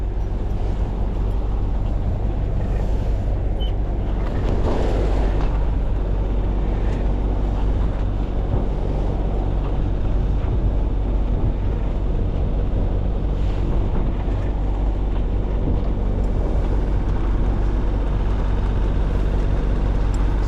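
Motor boat engine holding a steady 2,000 RPM while punching through strong 18 to 25 knot wind at sea, a continuous low drone buried under heavy wind buffeting on the microphone and wave noise.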